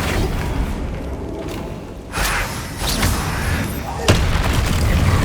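Flipendo spell cast in Hogwarts Legacy: a booming magical impact with thumps and bursts over continuous game noise, a sharper hit landing near the end.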